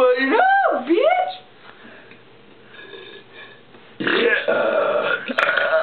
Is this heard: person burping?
yes